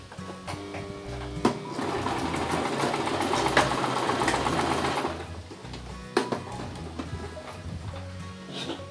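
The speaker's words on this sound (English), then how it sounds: "we will do the same thing for our lining, and we will go ahead and stitch." A sewing machine stitches a bag lining, running in a steady mechanical whir for several seconds before slowing and stopping, with a few clicks and handling sounds afterward.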